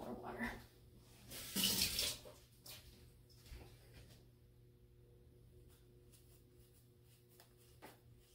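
A brief rush of running water from a tap near the start, then quiet room tone with faint clicks.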